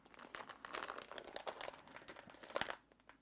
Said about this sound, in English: So we'll fold the bag under.